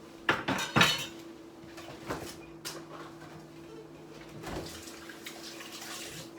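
Dishes clatter and cutlery clinks at a kitchen sink while hands are washed under running water, with a few sharp knocks early on followed by softer splashing and rinsing.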